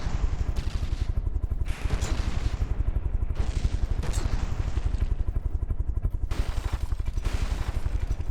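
A Gatling cannon in From the Depths fires a steady, rapid stream of rounds, a dense unbroken rattle of shots that stays loud and continuous throughout, with occasional heavier impacts layered on top.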